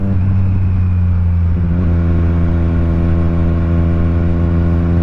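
A 2020 Triumph Street Triple RS motorcycle is ridden, its engine a loud, steady drone with a strong harmonic whine that shifts pitch briefly partway through, heard close and without any talk.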